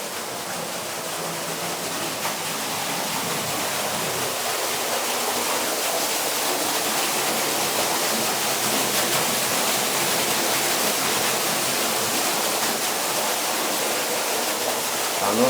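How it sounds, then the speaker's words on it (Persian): Water cascades steadily from a qanat-fed waterfall in Sarv village, Iran, a loud continuous rushing wash that holds even and close throughout, with no talk. "قنات آبشاری روستای سرو"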